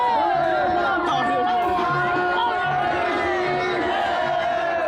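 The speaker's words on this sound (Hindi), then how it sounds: "लोगों का हौसला बना रहे, इसके लिए वहां मौजूद भीड़ ने जयकारे भी लगाए।" Dense crowd at a temple fire-walking ritual over a long strip of glowing embers, many voices shouting and chanting in a continuous loud roar, with overlapping cries rising and falling throughout.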